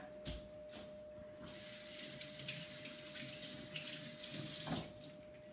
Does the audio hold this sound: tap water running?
yes